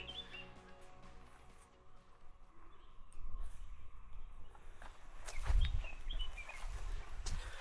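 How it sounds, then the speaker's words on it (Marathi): Bird calls and chirps sound among forest ambience, with scattered tweets over a soft background and occasional rustling footsteps on the ground. "छानपैकी पक्ष्यांचे आवाज येत आहेत."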